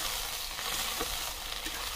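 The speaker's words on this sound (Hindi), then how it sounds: "अब इसमें हम अदरक लहसुन का पेस्ट डाल देंगे अच्छे से और फिर इसे मिलाएंगे।" Ginger garlic paste is stirred into onions frying in a pan for egg curry, making a steady, close sizzle and hiss with faint scraping, without talk.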